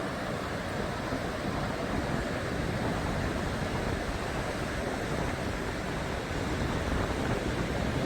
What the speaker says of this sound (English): Super low waves.